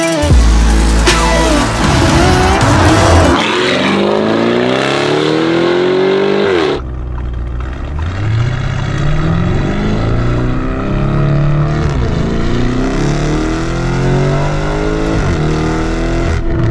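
A Lamborghini Urus fitted with a Novitec exhaust roars loudly up close, revving hard with rising and falling engine pitch, a sharp cut in the middle, then repeated throttle sweeps.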